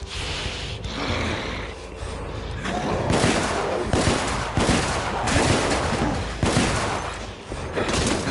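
Heavy gunfire from The Order 1886 video game rattles in dense, overlapping bursts and sustained volleys, loud and close, with a faint voice under the shooting.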